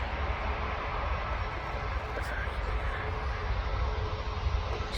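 A Ryanair Max airliner landing at Manchester airport makes a steady, loud roar with heavy low rumble, constant and unbroken for several seconds.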